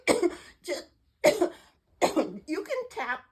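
A person coughs in a series of short, harsh bursts with brief pauses between them, the last few coming in quicker succession.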